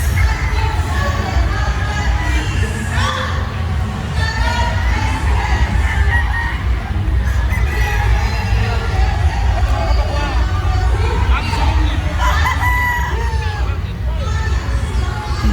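Gamefowl chickens cluck and roosters crow amid a loud, busy crowd hubbub at a gamefowl expo in the Philippines, the birds' calls rising repeatedly over the steady background din.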